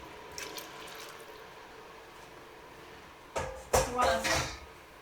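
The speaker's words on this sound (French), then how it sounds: "Je vais rajouter un peu d'eau." Water is poured into a pot of palm nut sauce with spinach and smoked chicken, a soft splashing gush that starts late and runs in short bursts after quiet kitchen background.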